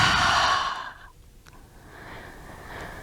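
A single deep exhale during a guided meditation, a long breathy sigh that fades out, followed by quiet room tone.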